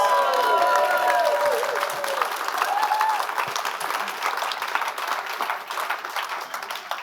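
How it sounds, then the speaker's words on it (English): Audience applause at a keynote speech, a dense sustained wash of clapping from a large crowd that holds steady and loud throughout, with faint voices and a few cheers mixed in. "Round of applause, please."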